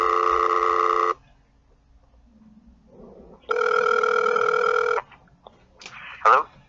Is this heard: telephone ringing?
yes